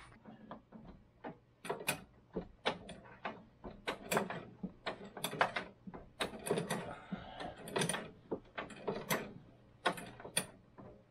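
Metallic ratcheting and clanking as a wrench works loose the worn upper shock bolt on the front suspension of a 1983 Indy 600 snowmobile, a dense run of sharp clicks and knocks close by, with no voices.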